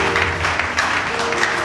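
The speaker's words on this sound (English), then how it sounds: "Clap for Jesus." Church congregation applauding during a sermon, a dense steady wash of many hands clapping at close range with faint voices mixed in.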